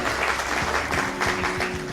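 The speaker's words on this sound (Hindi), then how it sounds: "अशफाक साहब के लिए एक बार जोरदार ताली।" Audience applause for Ashfaq Sahab at a film awards ceremony, a steady wash of clapping lasting about two seconds with a low tonal hum and faint voices underneath.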